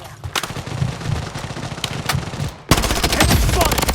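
Rapid automatic gunfire in the shooter video game BloodStrike, with scattered shots at first, then a loud sustained burst of close weapon fire near the end.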